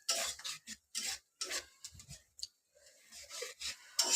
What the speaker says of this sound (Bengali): আমি এখানে আলু আর মাছগুলো দিয়ে ভালো করে কষিয়ে নেব